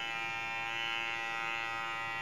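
An electric pet trimmer shears wool from an English Angora rabbit, producing a steady, close, unbroken buzzing hum at an even level for the whole stretch.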